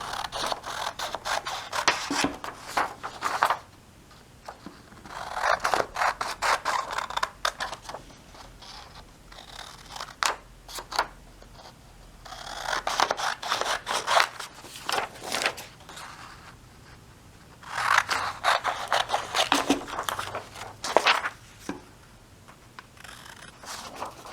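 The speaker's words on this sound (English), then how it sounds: "you're gonna take your scissors. I'm gonna cut around the outside." Scissors make repeated crisp snipping and rustling cuts through paper in bursts, with short quiet pauses between them, close up.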